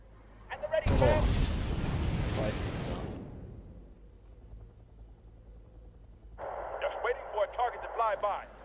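Artillery fire in the video game Wargame Red Dragon, a heavy booming barrage with a long rumbling decay, followed by crackly radio-style voice chatter.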